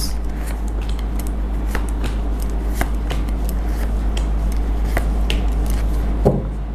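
Tarot cards being shuffled by hand, a sparse series of light papery flicks and taps over a constant low hum, fairly close.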